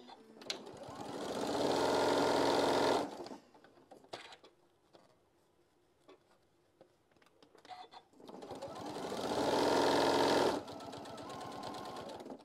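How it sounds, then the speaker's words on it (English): Two close, loud bursts of sewing machine stitching through fabric pieces, each a few seconds long, separated by a quieter stretch of small handling clicks and rustles. "Start at the top point, and then sew all the way down to where the crisscross is."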